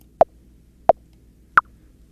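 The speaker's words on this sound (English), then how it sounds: "So the metronome, if you're doing a 5/4" Metronome in SUNO Studio ticking in 5/4 time, three sharp isolated clicks spaced evenly about two-thirds of a second apart over silence, the last one slightly higher.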